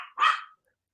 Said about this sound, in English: if I could ever get this dog to shut up